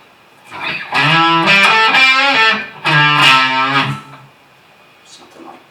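A gritty, overdriven electric guitar plays a short lead phrase of sustained, bending notes, loud and close, then fades out.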